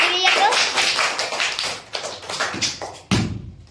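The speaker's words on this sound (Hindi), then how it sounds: "ताली बजाइए।" Young children clapping hands together in a primary classroom during a phonics lesson, a brisk round of uneven claps mixed with a teacher's and kids' voices, ending abruptly before a final louder clap.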